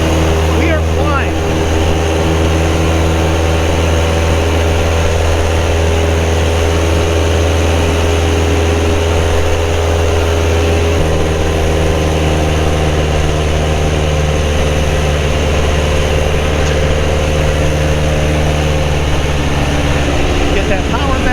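A light aircraft engine at full power after takeoff drones loud and steady throughout, a constant throbbing roar under occasional speech.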